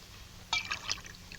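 Water poured into a glass, a brief close splash and trickle lasting under half a second against a quiet room.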